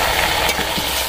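Chicken curry masala with chilli powder fries in a covered pot, a dense, loud, close sizzle lasting just over a second.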